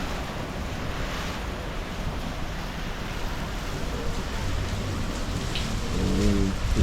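Hurricane Melissa drives heavy rain and gusting wind in a steady, loud wash of sound, with a faint tonal swell near the end.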